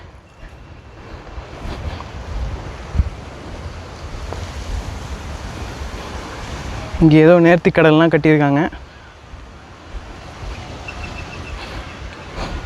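Seaside wind gusting along the coast at Keerimalai in Jaffna, a continuous rushing buffet on the microphone mixed with surf, while someone talks briefly partway through.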